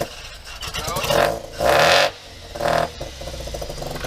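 A car engine idling roughly, then revved in three short bursts that rise and fall, with a clattering whir between them, running rich and nearly stalling under throttle.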